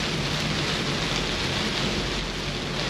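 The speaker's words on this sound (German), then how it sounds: "Es windet, es regnet. Es stürmt." Rain and stormy wind lash the mouth of a lake harbour near the Ketelmeer during a late-season boat trip, a loud, dense, unbroken hiss with no voices.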